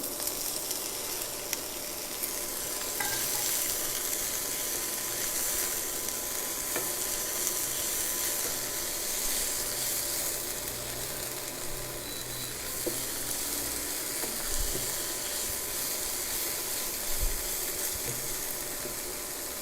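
Paneer sizzling in a pan with onion and chili, a steady loud frying hiss running throughout, broken by occasional utensil clinks and soft stirring scrapes.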